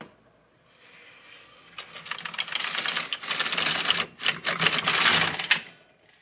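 An LK150 knitting machine carriage is pushed across plain rows, giving rapid clattering mechanical ticks in bursts with short gaps between passes, close and fairly loud with no talking.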